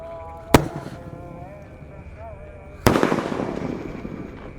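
A Golden Eagle firework rocket bursts with a sharp crack, then a second, louder bang opens a crackling, fizzing shower that lingers, with faint voices in the background.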